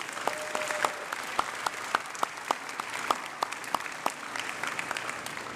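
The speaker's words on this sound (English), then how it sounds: "Let's give these folks a big round of applause." Audience at a university orientation convocation clapping for orientation counselors, with distinct individual claps standing out over a thinner bed of applause for several seconds.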